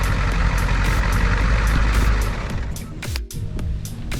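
A truck hauling a hay delivery rolls close and loud, its engine rumbling heavily, then brakes hiss and repeated regular clicks or beeps sound as it slows toward a stop.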